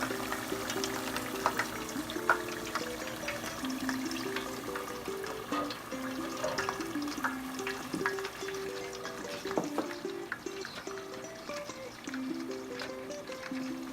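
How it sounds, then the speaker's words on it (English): Lumpia, Filipino egg rolls, frying in hot oil until golden brown, a steady close crackle and sizzle running without pause, with occasional pops and faint clinks of utensils over a low kitchen hum. "Fry the lumpia for about 4 to 5 minutes or until it's golden brown."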